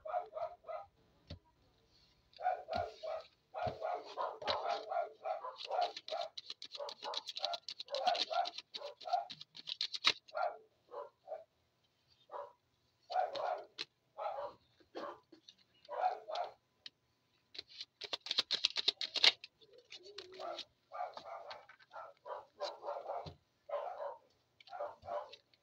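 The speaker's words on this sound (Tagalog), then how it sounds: "Ingay ng mga aso." Dogs bark in repeated bursts throughout, some near and some farther off, with quiet gaps between the barking bouts.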